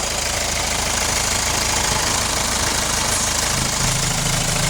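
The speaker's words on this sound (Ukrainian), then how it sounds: "Мотор робить рівненько, чистенько, ніяких потусторонніх шумів немає взагалі." A 2013 Hyundai Santa Fe with a 2.0 diesel engine idles with a close, loud, even clatter and a constant low rumble, steady throughout with no voices.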